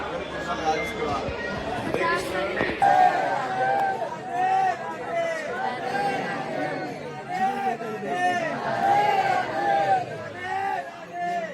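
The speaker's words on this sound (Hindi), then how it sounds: "बहुत ज़्यादा भीड़ हो रही है" A dense crowd of pilgrims at a temple in Vrindavan, with loud, continuous overlapping chatter and babble from many voices close around.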